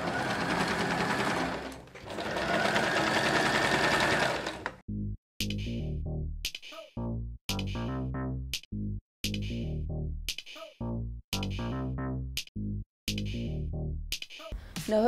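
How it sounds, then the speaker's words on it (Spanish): A sewing machine runs a straight stitch along the edge of a balaclava hood, first in a long continuous whir, then in a series of short start-stop bursts separated by brief silences. "Ahora sí le pasamos un pespunte recto por todo el borde"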